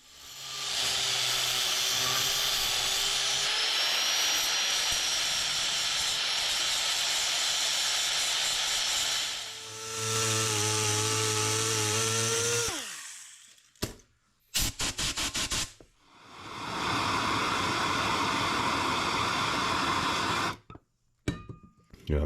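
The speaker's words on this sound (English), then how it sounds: "let me go ahead and get this cut off, and we'll rough this back up again and hit it with another coat" Power tool cutting and roughing up a repair patch on a Sea-Doo 717 tuned exhaust pipe, a loud harsh hissing grind running for long stretches, broken by brief stops and sputtering restarts, with no talking.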